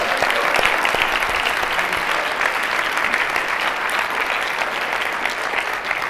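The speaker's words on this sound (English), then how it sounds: "He deserves a round of applause himself." A conference audience at a percussion convention gives sustained applause, a dense, even roar of many hands clapping that stays strong from start to finish.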